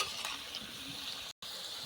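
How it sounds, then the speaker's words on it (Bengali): Potato pieces for mutton curry frying in hot oil in a pan, a dense, steady sizzle close by with faint stirring scrapes, briefly cut to silence near the end. "আলুগুলো আর একবার আমি হালকা করে নেড়ে দেব।"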